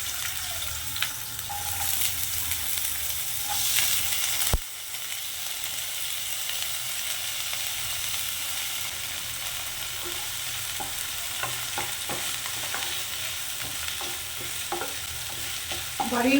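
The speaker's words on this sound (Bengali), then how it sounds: "এবারে আমি পেঁয়াজ কুচিটা এর মধ্যে দিয়ে দেবো।" Chopped onion sizzles steadily in hot oil with a little turmeric, stirred now and then with scraping strokes, a loud continuous fry close up without any talk.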